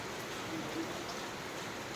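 Steady rain falling at night on a hot, muggy evening, a continuous broadband hiss of drops with no distinct pattern, moderately faint and unbroken throughout.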